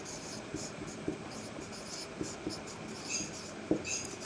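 A pen writes on paper close up, a quiet continuous scratching with small taps and strokes as letters form, steady and soft with no talking.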